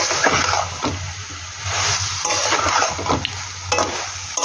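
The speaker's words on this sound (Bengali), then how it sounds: "এবার এটাকে সুন্দর করে নাড়াচাড়া করব।" Chicken pieces stirred in a pan over a medium flame as the meat releases its water, giving a loud continuous sizzle with repeated scraping and clattering strokes of the utensil, close up and with no voices.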